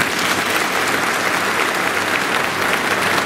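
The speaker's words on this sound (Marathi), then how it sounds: "आता फक्त तुम्ही टाळ्या वाजवा." Women in the audience at a guidance camp in Pandharpur clap together in a dense, loud, continuous burst of applause that holds steady throughout, with no talking over it.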